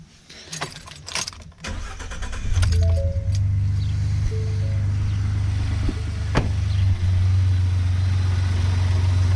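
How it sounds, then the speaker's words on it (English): A Ford F-150 starts after an oil change: keys jangle, the starter cranks briefly, then the engine catches and settles into a steady, close idle. "now let's start your vehicle"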